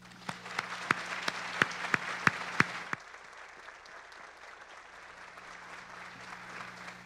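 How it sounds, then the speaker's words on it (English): Audience applause for ATHENA Awards honorees. The clapping is sharp and spaced at first with distinct individual claps, then settles into a quieter, diffuse patter that fades to a faint background. "Let's give another round of applause to our honorees"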